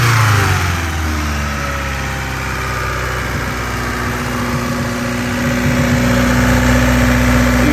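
A 1999 Honda Civic EK coupe engine with water in the cylinders runs roughly on all cylinders: a loud, close, uneven idle with a steady low drone.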